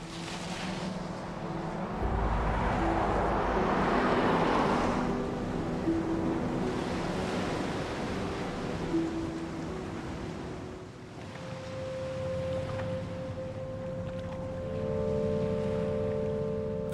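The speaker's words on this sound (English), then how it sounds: "Out in the ocean, Will has been struggling to stay afloat for" Ocean waves and wind out at sea, a continuous rushing roar with swelling surges, heard under a low musical bed that carries through the whole stretch.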